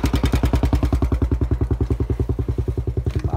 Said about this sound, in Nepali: बाइकलाई त साइड दिनु पऱ्यो होइन त्यो नालीतिर हाल्यो